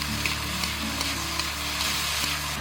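Vegetables and dried scallops stir-fried in a wok, giving a steady close sizzle with faint scraping and tossing throughout, no talk.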